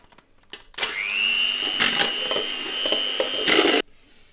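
An electric whisk whips double cream with a whirring motor whine that spins up, holds steady for about three seconds and cuts off. Clattering knocks against the bowl punctuate the whirring.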